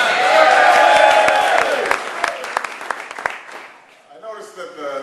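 Rambunctious crowd at a St. Patrick's Day event at the White House cheering and applauding loudly, a dense wash of clapping and shouts that thins out toward the end as voices emerge.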